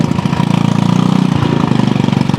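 Motorcycle engine idling close by, a loud steady putter with fast regular pulses, running alone without talk.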